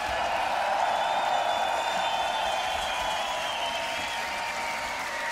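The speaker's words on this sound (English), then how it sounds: "make some noise for Wing" A crowd at a beatbox battle applauds and cheers for beatboxer Wing, a dense, sustained wash of clapping with whoops and shouts running evenly for several seconds.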